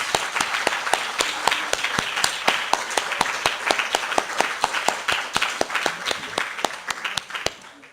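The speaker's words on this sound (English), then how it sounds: "Let's have one more round of applause for our Davis Scholars." Audience applause for scholarship recipients at a scholars' presentation ceremony: a steady, full round of many hands clapping, close and sustained, trailing off at the very end.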